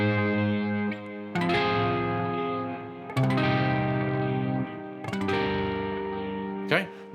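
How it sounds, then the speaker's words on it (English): Electric guitar with effects and a touch of reverb strums a simple four-chord progression of bar chords, each chord struck once and left to ring for well over a second before the next, played alone and fairly soft. "I'm going to start with a simple 4-chord progression, and it sounds something like this."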